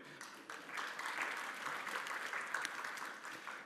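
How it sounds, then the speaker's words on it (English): Audience applause at a GamesBeat 2015 business conference session, a steady dense clapping that stays loud and even throughout with no talk over it. "you can give yourselves a round of applause"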